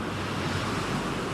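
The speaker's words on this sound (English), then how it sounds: "Monster waves." Big ocean waves surge and crash continuously off the Atlantic coast, a dense, loud roar with steady wash and some wind noise, no voices.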